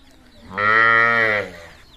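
A single loud, sustained bovine moo rises and holds for about a second at a cattle market in Tegharah, Birol, Dinajpur, where cows are sold with their calves.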